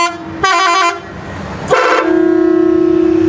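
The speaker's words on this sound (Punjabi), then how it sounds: "ਇਹਨੂੰ ਹਾਰਨ ਲਾਇਆ ਹੈ ਜਿਵੇਂ 72 ਸੀਟਰ" A loud custom musical horn fitted to a Millat tractor, like that of a large 72-seat bus, blares two short multi-tone blasts, then settles into a long steady tone, close and alone.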